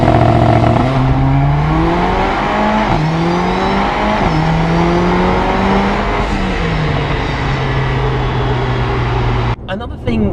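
Loud engine note of a Mercedes-AMG A45 climbs steadily through several gear shifts as it accelerates hard from a launch, the pitch dropping back at each change before rising again.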